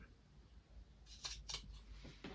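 Scissors snip through lace trim for a clean edge, with a few short, crisp cuts coming close and fairly quiet against a soft background hush.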